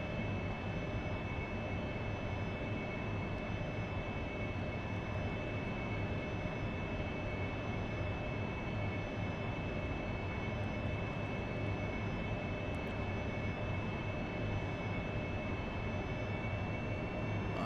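A steady, continuous AV-8B Harrier jet engine roar in the flight simulator DCS, droning loud and unbroken throughout with a constant high whine on top.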